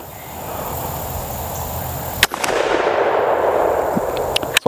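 A low recoil 12 gauge slug fired from a shotgun outdoors makes a single sharp, loud report midway, followed by a lingering rumble and faint clinks against a steady background noise.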